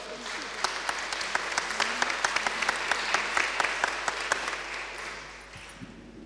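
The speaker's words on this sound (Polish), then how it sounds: "Brawa dla starostwa." Applause fills a gala hall at a youth competition finale, dense clapping with sharp individual claps standing out, steady for several seconds before thinning toward the end.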